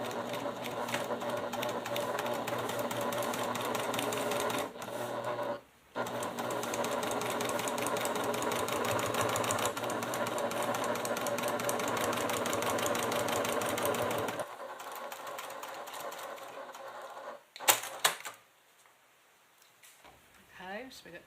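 A home sewing machine stitches a fabric clutch at a steady, fast, even whir that runs continuously, pausing once briefly before stopping, followed by a few small clicks and handling noises.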